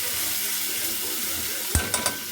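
Onion and ginger frying in a pan give off a steady, fairly quiet sizzle, and three sharp clinks of a utensil near the end stir the pan.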